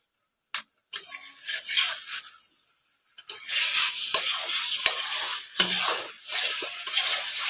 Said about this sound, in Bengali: ডিমগুলোকে ভেজে নিই, ভেজে গুঁড়া করে নেব